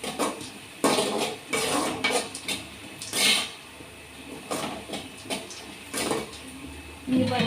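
A spoon stirring onions as they fry in a pan, with repeated metallic scrapes and clanks against the pan over a steady low sizzle, close up, and nobody speaking.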